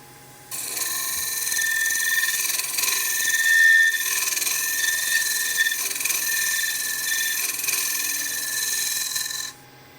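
A scraper works an end grain wooden bowl on a lathe, making a continuous, close, hissing scrape for about nine seconds that starts and stops abruptly with a slight swell partway through.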